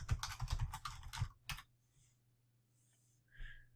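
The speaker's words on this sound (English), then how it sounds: "I'm going to click or type in collector choice." A computer keyboard is typed on in a quick cluster of close, sharp clicks, followed by a hush with a low hum and a couple of faint later sounds.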